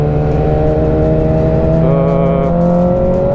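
A 2006 Yamaha R6 sport motorcycle engine revs close by, its pitch climbing and holding in a loud, sustained whine.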